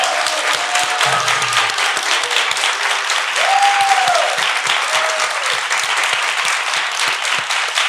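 Sustained audience applause for Dr. Alexander Krouham at the close of a Spanish-language episode on losing belly fat, dense and loud clapping throughout with a few faint tones above it.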